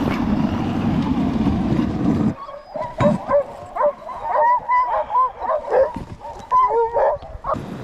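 Sled dogs on an Arctic trek bark and yip in short, repeated bursts, close and lively, after a stretch of steady wind or movement noise at the start.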